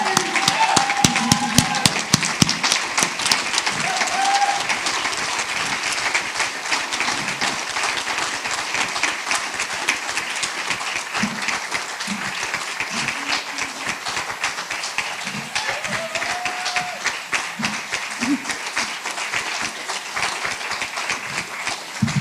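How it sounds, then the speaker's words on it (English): An audience at a community celebration event applauds steadily for over twenty seconds, a dense, sustained wash of clapping with occasional cheers and voices mixed in. "Everyone, please give him a round of applause."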